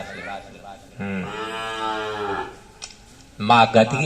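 Cows low in long, drawn-out moos, one sustained call dominating the middle, with faint background voices and a brief louder burst of sound near the end.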